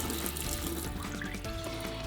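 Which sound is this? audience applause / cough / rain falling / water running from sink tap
water running from sink tap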